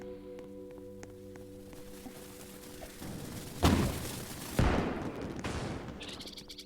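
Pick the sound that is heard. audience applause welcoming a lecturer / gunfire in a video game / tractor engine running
gunfire in a video game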